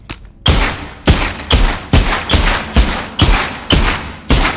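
Gunshots in the VR zombie game The Walking Dead: Saints & Sinners fire as a loud, evenly spaced volley of about eight booming shots, each with a heavy thump and short tail, and no voices over them.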